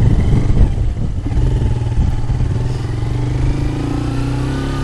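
Motorcycle engine revving during a gear-shifting lesson, loud and close, with a steady idle that rises in short throttle blips and settles back; no speech over it.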